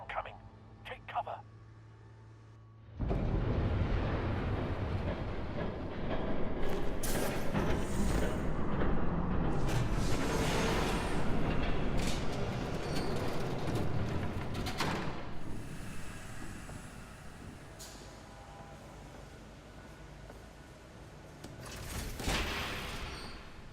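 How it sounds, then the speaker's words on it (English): Train in a Batman video game roars past nearby after a brief quiet start, a loud broadband rumble with clattering bursts that builds, holds for most of the clip, then gradually eases off. "There's a train coming."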